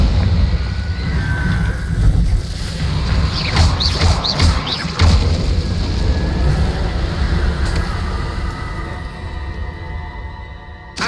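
Heavy, continuous rumbling blast of a Confringo curse in Hogwarts Legacy, a loud roaring explosion with crackling debris and thuds that stays dense for several seconds before tapering slightly.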